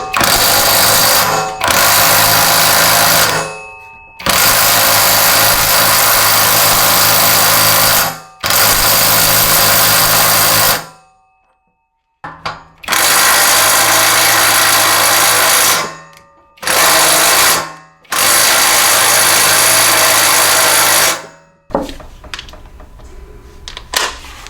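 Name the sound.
half-inch impact wrench on Ariens snow thrower bolt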